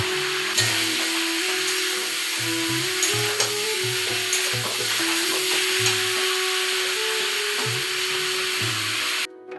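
Meat frying with salt and turmeric in a kadai sizzles steadily while a spoon scrapes and stirs in repeated rhythmic strokes against the metal, close and clear.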